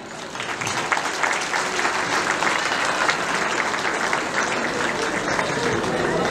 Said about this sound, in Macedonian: сите нив да ги поздравиме со еден аплауз.